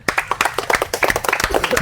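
A small group claps for a child after a biscuit race game, a quick burst of irregular, fairly close hand claps lasting under two seconds.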